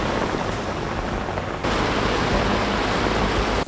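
Heavy monsoon rain pours down on a Philippine campus in a dense, continuous hiss, loud and close, with water running off like a small stream.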